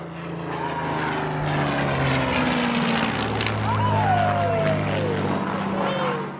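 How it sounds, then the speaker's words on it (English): A Spitfire propeller plane makes a loud flypast over a town during VE Day 80th anniversary street parties, its engine droning steadily for several seconds with a swelling pitch, while crowd noise and voices carry underneath. "it's only fitting that today the town has its own flypast"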